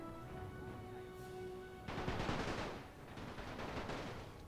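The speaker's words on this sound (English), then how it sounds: "the troops are firing" Troops firing guns in The Great War video game, a faint tone fading out before a sudden wash of distant crackling rifle and machine-gun fire that swells and continues at low volume.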